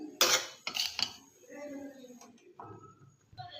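Sev mixture is tipped onto a plate with a few sharp clinks and scrapes of utensil against dish, two clear bursts near the start then quieter rattling, with a voice briefly audible.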